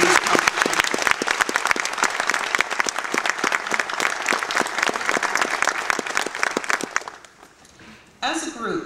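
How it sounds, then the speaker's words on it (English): A school audience at a National Honor Society induction gives dense, steady clapping for the honored students for about seven seconds, then it stops and a voice begins. "Let's give them a warm round of applause for these accomplishments."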